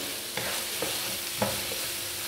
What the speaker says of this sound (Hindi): उसी में ही हमारी फ्राई हो रही हैं चीज़ें